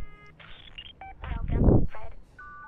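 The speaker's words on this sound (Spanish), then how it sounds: "Hackeemos el teléfono para dar comunicación más rápido con este Fred." Electronic dial-tone beeps from phone hacking in the video game Watch Dogs 2: a quick string of short tonal blips with a muffled low thump in the middle, close and clear, with no talk.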